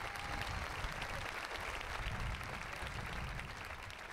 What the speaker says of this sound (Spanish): Señor Sampaio, un aplauso para él, grandísimo.